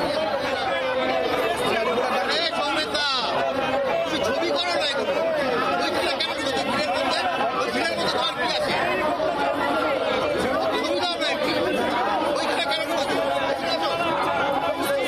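A protest crowd of BLO Adhikar Raksha Mancha members gathers outside the CEO office, their dense, continuous chatter and shouting forming a loud, steady hubbub throughout.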